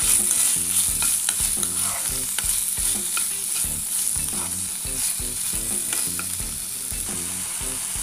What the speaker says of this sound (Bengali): সেই চিকেনটা দিয়ে দিব। হালকা ভেজে নিতে হবে।